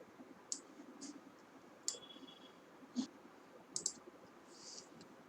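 Sharp computer mouse clicks land one at a time, about six across a few seconds, as a slicer button is selected in a spreadsheet dashboard; they are close and crisp over a faint room hiss, with no talking.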